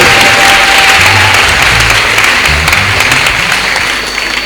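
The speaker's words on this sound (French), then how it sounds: "Est-ce que quelqu'un peut applaudir?" A church congregation applauds loudly at a healing service, a dense burst of clapping close and full, tapering slightly toward the end with faint voices underneath.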